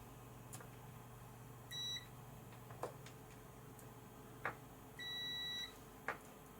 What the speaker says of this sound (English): We'll just check that we've got continuity to the base plate.